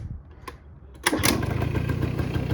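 A 1984 Honda Aero 50 scooter kick-started, with a couple of sharp kicks and a brief sputter, after which the small two-stroke engine catches and settles into a steady, buzzing idle, close by.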